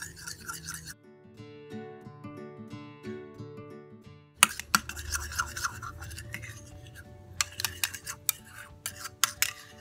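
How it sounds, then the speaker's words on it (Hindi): Glow serum ingredients with glycerin being stirred into a paste, a busy rapid scraping and clinking of a utensil against a small container, close and moderately loud, with a brief pause partway. "ये सब चीजें डाल के हम अच्छा सा मिक्स करेंगे।"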